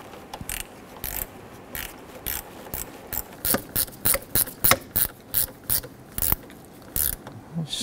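Screwdriver tightening the battery terminal clamps on a 1997-2006 Jeep Wrangler gives a series of close, sharp ratcheting clicks in short repeated bursts, steady and rhythmic, with no talk.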